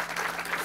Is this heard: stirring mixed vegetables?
no